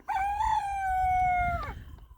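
A backyard rooster gives a single drawn-out crow, loud and close, holding steady before trailing off, with no talk over it.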